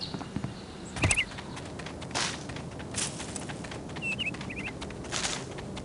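Forest ambience from the video game Psychonauts, with a few short bird chirps and trills scattered over a soft, steady outdoor bed of rustling noise; the calls are faint to moderate and arrive alone, without talk.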